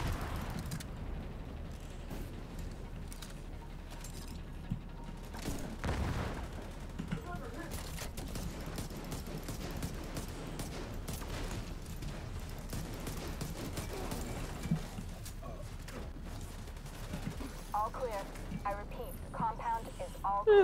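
Weapon fire in the Division 2 video game, with scattered shots and explosions crackling through a busy combat mix while a person talks over it.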